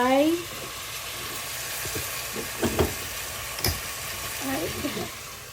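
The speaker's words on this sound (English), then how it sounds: "So yan, starting now to fry." Chicken pieces for tinolang manok sizzle and hiss steadily in hot oil in a pan, with occasional stirring clinks and a voice speaking briefly at the start.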